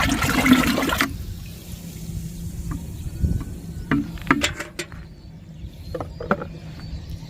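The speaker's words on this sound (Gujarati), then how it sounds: "આ 50 લીટરની ટાંકીમાં નાખી અને ધોરિયામાં આ રીતનું પિયત સાથે જવા દઈએ છીએ" Irrigation water mixed with a jaggery solution from a 50-litre tank runs along a field channel in a groundnut field, a steady outdoor trickle and gurgle with a loud gushing burst at the start and light clicks and insect chirps later.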